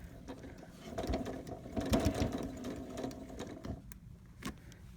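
A sewing machine stitching a pleated cloth face mask: a steady, close mechanical whirring chatter for several seconds, then slowing to a stop followed by a faint click.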